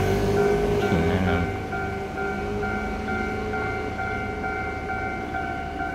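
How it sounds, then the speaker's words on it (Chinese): A local commuter train passes at 20:55 with a continuous mechanical rumble and a steady tonal whine, slightly louder at the start and holding evenly through the pass, with no voices. "20:55了，我们还是准备有列车通过。"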